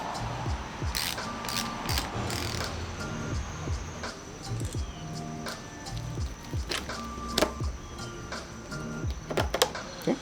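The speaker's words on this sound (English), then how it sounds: "I'm just going to loosen the brace bar so I could have access to the two bolts at the top." Wrench work loosening the bolts on a motorcycle bar clamp brace bar during handlebar clamp installation: close, repeated ratcheting clicks and metallic ticks in short irregular bursts, with no talk.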